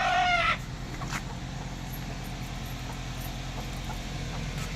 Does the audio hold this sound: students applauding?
no